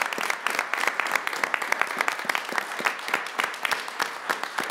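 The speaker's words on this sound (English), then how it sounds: "let's give him a round of applause" Applause at a school board of education meeting for a retiring board member, with a room of people clapping in a brisk, steady patter, moderately loud and continuous, no speech over it.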